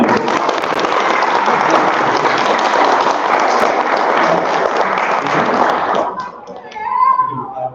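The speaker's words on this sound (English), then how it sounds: "Round of applause." An audience at a US History Bee finals event breaks into loud, sustained applause that fills the room for about six seconds and then stops abruptly, leaving quiet murmuring.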